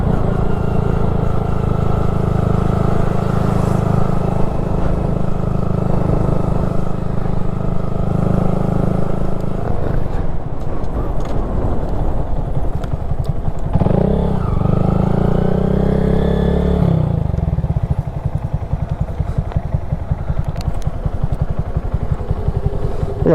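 Riding a 2022 Honda Grom motorcycle, the small engine holds a steady close drone, then revs up and down near the middle, with a clattering background of traffic.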